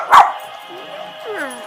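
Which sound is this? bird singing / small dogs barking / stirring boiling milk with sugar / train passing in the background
small dogs barking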